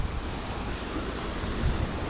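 Strong wind buffeting the microphone over sea surf on an empty beach at Adler, a steady broadband roar of gusts and waves with low rumbling thumps throughout, no voices.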